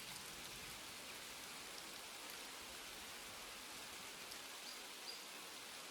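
Heavy, steady rain pours down without a break, a dense, even hiss of drops on surfaces, with no voices.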